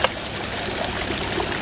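Water trickles steadily from a hand pump at a nursery garden in Dubai, a continuous close, moderately loud stream with no voices over it.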